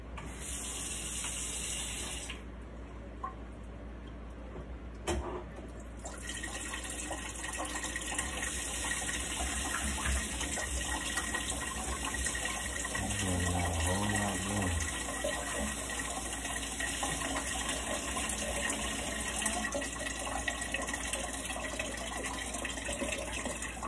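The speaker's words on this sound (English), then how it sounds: "let me turn the water off" Water runs steadily from a household tap, a constant close gush that continues for the whole stretch, with a brief clatter near the start.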